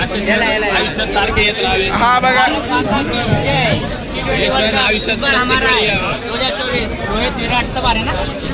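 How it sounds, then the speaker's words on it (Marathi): A dense crowd of cricket fans packs a Mumbai train for the India World Cup trophy celebration, a constant loud babble of many voices close around with people talking throughout. "अशा प्रकारे ट्रेनला अशी गर्दी आहे खूप भयंकर."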